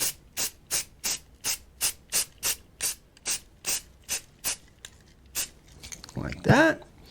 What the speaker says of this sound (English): And then I'm just using the primer. Make sure you shake this stuff up real good.